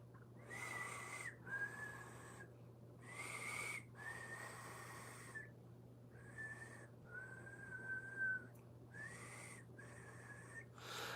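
A man whistles The Walking Dead theme, a series of clear, breathy phrases in a steady rhythm with short pauses between them, close up over a low electrical hum.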